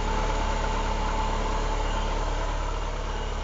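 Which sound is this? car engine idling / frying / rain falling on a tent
car engine idling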